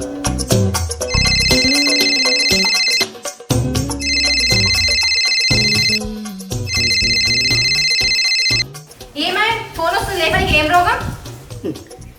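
A loud electronic phone ringtone plays in repeated melodic bursts, three cycles with brief pauses, followed by a stretch of different busy sound.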